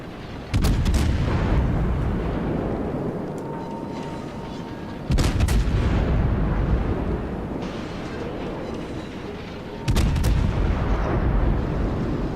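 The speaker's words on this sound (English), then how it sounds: "I'm just gonna fire some high explosive at you" Warship main guns firing high-explosive shells in World of Warships, three heavy booming salvos about five seconds apart, each followed by a long rolling rumble, with no talking.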